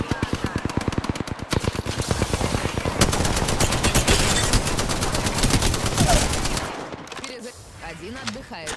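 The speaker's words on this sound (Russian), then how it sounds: "Меня стреляют." Rapid automatic machine gun bursts in the Apex Legends battle royale game, a dense, loud rattle of gunfire for several seconds, with voices speaking over it before the firing stops.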